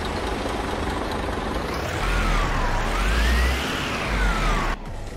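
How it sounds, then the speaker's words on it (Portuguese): A Scania K124 bus engine in Euro Truck Simulator 2 runs at a steady low rumble that swells slightly as it revs, with a faint rising whine, then drops off abruptly. "Vou ligar ele aqui para vocês darem a conferida no ronco dele aí"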